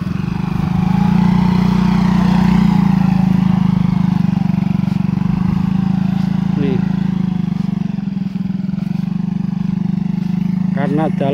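A motorcycle engine droning loudly and steadily along a shortcut road, running at a constant pitch up close, with a few faint chirps near the end.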